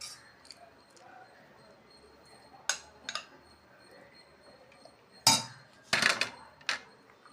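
Masala rice being plated, with scattered clinks and clatters of dishes and cutlery, mostly quiet between a few louder, close knocks toward the end.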